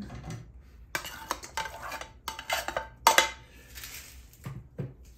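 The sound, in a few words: mixing tomato, bay leaf, onion and garlic in a pot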